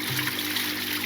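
Water rushes out of a household drainage pipe the moment a blockage is cleared, a steady close-up gushing and splashing that holds at one level throughout, with no talk.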